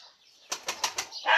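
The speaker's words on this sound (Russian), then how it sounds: "такла вот такая вот у меня. Люблю голубей." Takla pigeons beat their wings in a pigeon loft, four quick close flapping bursts in a row followed by a brief rustle, with no voices.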